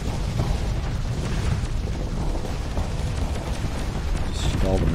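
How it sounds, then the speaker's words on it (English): Missile explosions in the space combat game Starsector, a continuous dense rumbling roar of blasts that fills the whole stretch, loud and steady, with voices talking over it. "That was a lot of missiles."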